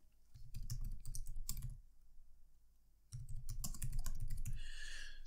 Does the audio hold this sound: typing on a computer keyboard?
yes